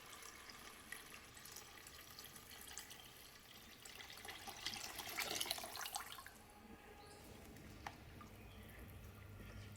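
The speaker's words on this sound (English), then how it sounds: "Pour in 4 cups of water." Four cups of water pour into a pot for yellow lentil rice with a steady, faint stream of liquid that swells briefly in the middle, followed by a few drips.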